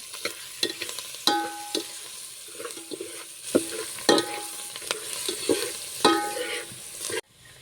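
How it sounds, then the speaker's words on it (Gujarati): Turmeric and chili are stirred in a hot frying pan for dal, giving repeated scraping knocks of a spoon against the metal over a soft steady sizzle, close by and with no talking. "હળદર ને મરચાં હલાવી નાખીએ."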